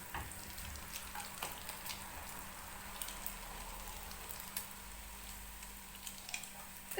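Sweet dough frying in a pan of oil, a steady close sizzle with dense crackling pops running the whole time, no voices.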